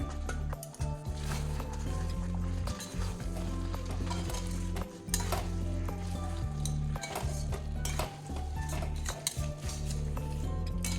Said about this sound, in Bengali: এবার সয়াবিনগুলো দিয়ে দেবো সিদ্ধ করে রাখা সয়াবিন